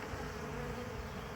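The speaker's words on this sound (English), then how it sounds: "We'll see as the bees are going down in there." A swarm of bees clustered on a tree branch gives off a dense, steady, moderately quiet buzzing hum with no pauses.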